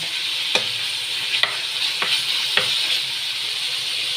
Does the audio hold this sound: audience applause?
no